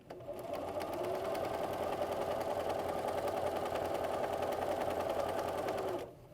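Sewing machine stitching through bias tape on an embroidery hoop organizer project, a steady, fast continuous motor whir with rapid needle clatter running about six seconds before stopping, loud and close with no talking.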